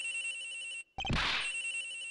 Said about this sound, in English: It's gotta be the victim's cell phone.